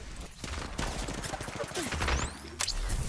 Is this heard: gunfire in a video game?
yes